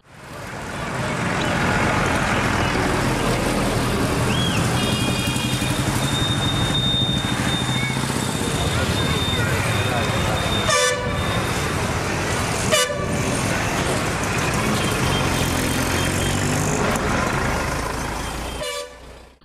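Heavy vehicles rumble along the busy old Dharwad road in Belgaum, with a constant loud traffic roar, several long horn toots partway through and a couple of sharp passing bursts.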